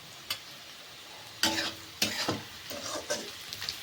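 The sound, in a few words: stir-frying vegetables with sugar for fried rice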